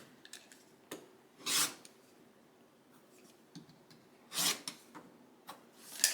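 Rotary cutter trimming fabric edges of a half square triangle quilt block along a ruler: a few separate short, bright rasping cuts, moderately near, with quiet pauses between them.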